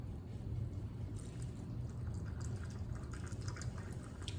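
Italian sparkling water pours into a cocktail glass, a soft continuous fizz and trickle with faint bubbly crackles, quiet and close, with no talking.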